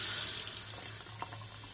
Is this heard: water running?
yes